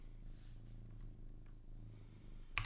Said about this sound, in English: My cat's back, by the way, if you can't hear the purring.